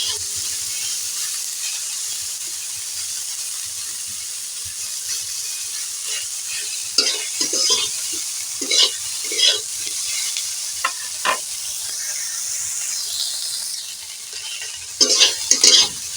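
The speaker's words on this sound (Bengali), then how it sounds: "সয়াবিনটা ভেজে নিলে সয়াবিনের স্বাদটাও আরও বেড়ে ওঠে" Soybean chunks fry in hot oil in a wok, giving a steady close sizzle broken by intermittent scraping and clattering stirs, with a louder burst of stirring near the end.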